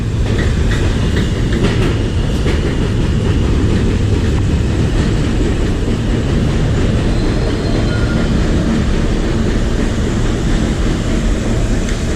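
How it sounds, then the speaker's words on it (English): A New York City subway E train rumbles steadily and loudly with rattling, clacking wheels, close by, as it pulls into the Roosevelt Avenue station in Jackson Heights. "Here's the E-train to Manhattan,"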